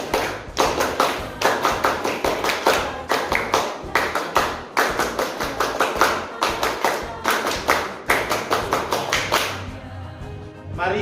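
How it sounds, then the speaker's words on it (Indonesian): Students at a 60th-anniversary Scout (Pramuka) ceremony for kindergarten, primary and junior high pupils in Cilincing perform the Scout clap, a loud group of sharp claps in repeated rhythmic bursts with short pauses, then fading to quieter background sounds. "3 kali tepuk pramuka."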